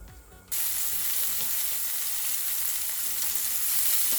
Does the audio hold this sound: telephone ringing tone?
no